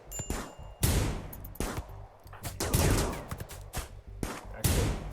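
Colonists in Rimworld trade gunfire, with sharp single shots and short bursts cracking out at irregular intervals, moderately loud and mostly free of talk.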